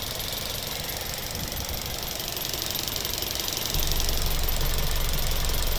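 The warmed-up 2.0 petrol engine of a 2008 Mazda 6 with an LPG conversion and automatic gearbox idles steadily up close, a constant rattling hum with a fine ticking texture and a deeper drone joining partway through.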